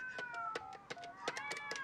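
A cat in the film Zombie Cats from Mars gives several short, high meows in a quick irregular series, close and clear, with a brief voice mixed in.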